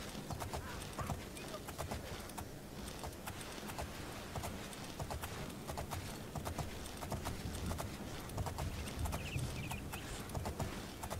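Horse hooves clip-clop steadily on the ground as a mount is ridden in the video game The Elder Scrolls IV: Oblivion, a continuous rhythmic clatter of fairly close steps with faint background ambience throughout.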